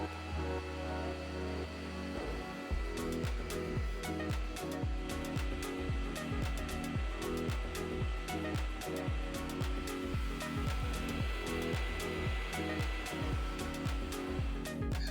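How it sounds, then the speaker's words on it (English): A 3D printer prints parts with a continuous whirring fan hum and rapid, rhythmic motor ticks and clicks, steady and close throughout with no talking. "now let's push those parts to the printer"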